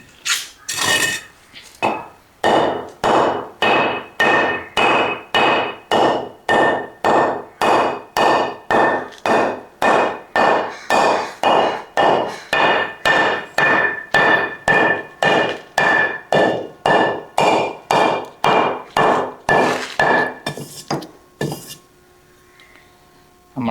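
A hammer strikes an AAC block hard again and again, around thirty loud, sharp, ringing blows in a steady fast rhythm, close up with no talking, ending in a brief quiet stretch.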